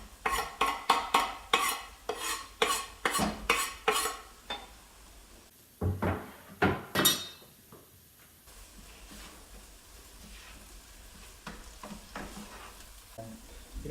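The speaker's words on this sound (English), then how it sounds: "let's get that garlic in the pan" Garlic hits a pan of peppers and onions and is stirred, with a quick series of sharp scraping strokes, a short pause, a few more strokes, then a softer, steady sizzle.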